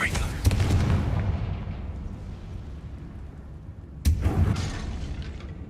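A Confringo blasting spell detonates in Hogwarts Legacy, a video game, with a loud booming burst and a rumbling tail, followed by a second sharp blast about four seconds later that also fades into low rumble.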